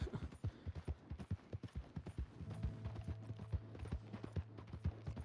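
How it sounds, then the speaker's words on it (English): A horse sprints in a video game, its hooves clip-clopping in a fast, even rhythm that stays up close throughout, with a low steady hum entering partway through. "Once you get outside city limits, your horse starts to sprint."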